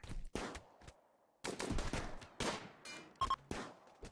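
Gunfire in the RimWorld colony game, a ragged series of sharp shots and short bursts separated by brief gaps, moderately loud with no talk over it.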